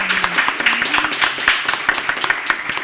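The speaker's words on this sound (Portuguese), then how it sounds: "uma salva de palmas" A small studio audience of students claps at a podcast taping, a dense patter of hand claps at steady volume, with some voice tones mixed in underneath.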